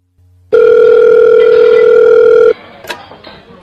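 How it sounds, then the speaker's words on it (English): A loud, steady electronic telephone tone sounds for about two seconds, then cuts off and leaves faint clicks and low background noise. "A telephone call."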